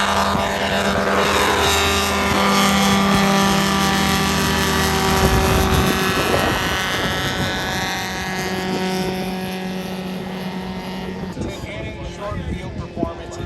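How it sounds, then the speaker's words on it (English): Light aircraft with a 300 hp converted snowmobile engine taking off, a loud buzzing engine drone with shifting pitch that swells and then fades as it climbs away. "this aircraft is really cool because it's got a 300 horsepower converted engine from a snowmobile"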